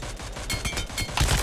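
Rapid bursts of continuous gunfire from the shooter game PUBG Mobile, a dense rattle of shots running through the whole moment with a heavier burst near the end.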